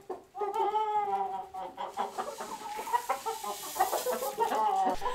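Several large, nearly grown chickens cluck and squawk close by on a farm, with one drawn-out call at the start followed by a busy stream of short, overlapping clucks.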